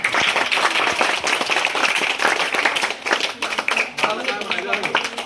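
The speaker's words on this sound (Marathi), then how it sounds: "टाळ्या वाजवा सगळ्यांनी." Children at a birthday celebration in a balsanskar centre clap together, a steady dense patter of many small hands, close and continuous, with voices mixed in throughout.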